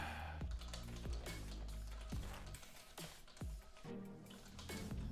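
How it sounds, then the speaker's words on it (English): Clicky keystrokes on a new computer keyboard during a live coding session, irregular bursts of close, crisp key presses with short pauses, no voices. "New keyboard."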